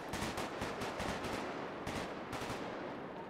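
Rapid, dense gunfire during a GTA roleplay street shootout, bursts of shots fired from across a street, steady and fairly loud throughout with no talk over it.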